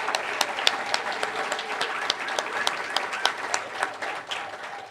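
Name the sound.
applause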